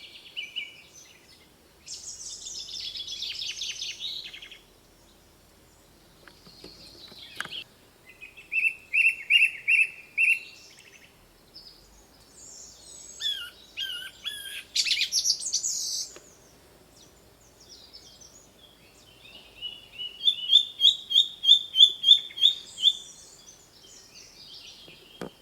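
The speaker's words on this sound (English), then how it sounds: "There are marvellous bird songs all around us." Woodland birdsong at Caudle Common carries through still air, with several birds trading clear chirping phrases and trilled bursts that come and go over about twenty-five seconds, with no other sound behind them.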